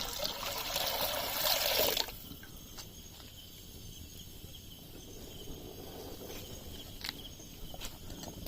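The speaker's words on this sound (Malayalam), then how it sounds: "ഇനി അതിൽ വെള്ളം ഒഴിക്കുകയാണ്" Water gushes and splashes loudly into a cooking pot for boiling tapioca for about two seconds, then stops, leaving quiet background noise with a few faint clicks.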